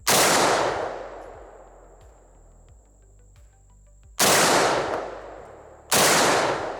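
M1 Garand .30-06 semi-automatic rifle firing outdoors, three loud sharp shots with long echoing decay, and the metallic en-bloc clip ping ringing out after the first shot.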